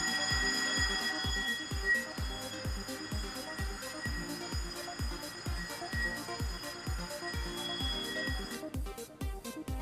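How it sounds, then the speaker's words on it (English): An all-zone emergency alarm from a GEN-2001 IP paging gateway sounds as a fast, steady repeating mechanical pulse with a sustained high tone, running continuously and fairly loud, then breaking into a different pattern near the end. "Press F1 button to trigger all zone emergency alarm for 10 seconds."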